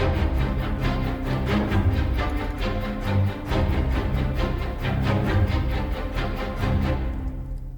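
Layered orchestral strings, massive low ensemble with high spiccato, play a driving, rapid staccato rhythm with deep low parts and bright short bowed notes, full and loud, fading at the end.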